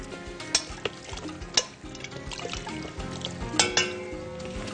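Ghee and hot broth are poured over layers of roqaq pastry filled with minced meat, with close liquid splashes and a soft sizzle broken by a few sharp clinks and scrapes of a utensil.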